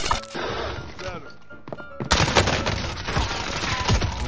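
Gunfire in a video game with a sniper, a sharp shot near the start followed by a quieter stretch, then dense rapid bursts of shots and impacts, loud and close.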